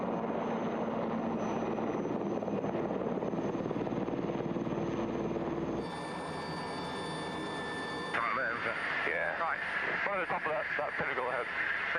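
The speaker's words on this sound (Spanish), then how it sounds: "el helicóptero abandona la zona" A rescue helicopter leaving the area after a hoist operation, its steady rotor and turbine roar loud and constant, briefly shifting in tone as it climbs away, with radio-like chatter underneath.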